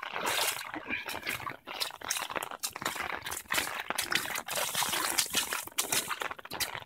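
Floodwater flows through a flooded backyard in Rutherford, New Castle County, Delaware, a steady rushing, trickling wash of moving water that stays fairly close and constant, with no voices.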